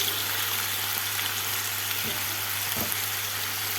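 Leftover meat stir-fries in a pan for a sandwich, giving a steady close sizzle with a couple of brief stirring scrapes partway through. No one speaks.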